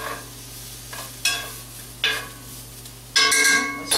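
Smoked lean turkey bacon sizzles steadily in a skillet, a constant frying hiss with a low hum beneath it. Several sharp, scraping stir strokes rise above the sizzle, with the loudest one near the end.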